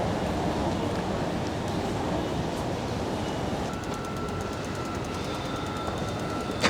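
A train on an elevated Chuo Line track rumbles past nearby with a steady, loud roar and rhythmic clattering of wheels over the rails, no voices.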